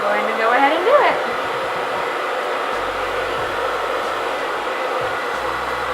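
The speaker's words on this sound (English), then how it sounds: "I'm going to make sure that my blow dryer is on cold." Handheld blow dryer running on its cold setting: a continuous airy roar that stays steady throughout, with a brief voice at the start.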